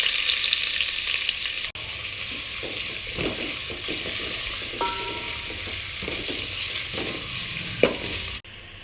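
Onions frying in hot oil for dalcha, a steady bright sizzle heard up close with occasional clicks and stirring knocks, no talking.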